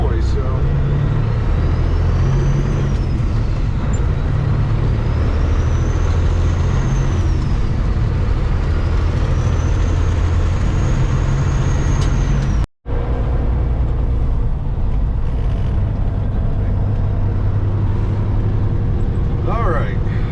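A truck's Cat C15 diesel engine idles loudly and steadily as it warms up, a constant close drone that runs through the whole stretch with one brief dropout, while people talk over it.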